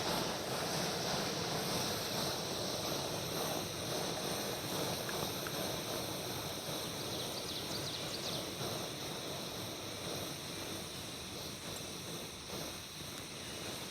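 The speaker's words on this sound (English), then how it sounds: "I'm going to let that burner burn out fuel that's in the system" A Peak Apex 2 camp stove, 26 years old and rebuilt, with its bottle shut off and the burner burning out the last fuel in the line: a steady, close, broadband roaring hiss, easing slightly toward the end, with no talking.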